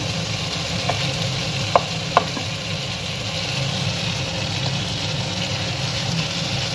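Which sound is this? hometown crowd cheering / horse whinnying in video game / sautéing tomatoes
sautéing tomatoes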